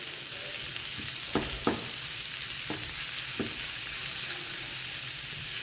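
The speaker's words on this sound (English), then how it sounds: "we're going to take the meat that I cut up earlier, put it in a small skillet" Leftover steak pieces dropped into a small skillet beside translucent onions, with a steady close sizzle and a few soft scraping stirs and taps.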